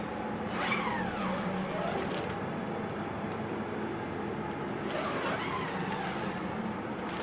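A DIY spray paint booth's extractor fan roars steadily as a broad, constant rush of air, with faint scraping noises passing over it.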